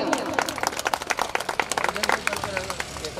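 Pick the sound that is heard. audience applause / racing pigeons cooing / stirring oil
audience applause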